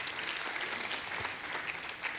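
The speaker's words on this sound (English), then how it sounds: "A little round of applause for Murli." Indoor audience applause as a speaker is welcomed on stage at a talk, a dense steady wash of many hands clapping at moderate volume throughout, with no speech over it.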